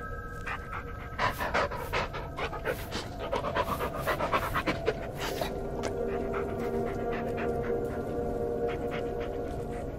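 A dog pants steadily in the video game Blair Witch, a quick, breathy rhythm that stays close and fairly soft and runs through the whole stretch with no talking.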